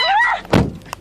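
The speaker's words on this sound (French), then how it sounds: "les passagers ont réussi à refermer la porte" A car door slams shut with a single solid thunk midway, preceded by a brief whining tone and followed by a small faint knock, inside a vehicle at a safari park.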